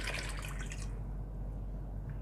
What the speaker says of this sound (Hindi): तो अब इसमें डाल देंगे 8 गिलास पानी।